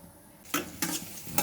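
Cashews frying in ghee while being stirred for carrot halwa: a low sizzle broken by three bursts of scraping and crackling as the spoon moves through the pan, close up.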